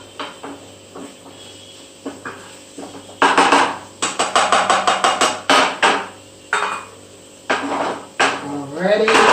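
A utensil scrapes and knocks against the sides of a pan of chicken curry in a home kitchen, giving a run of loud, rhythmic strokes after quieter clinks, with faint background noise.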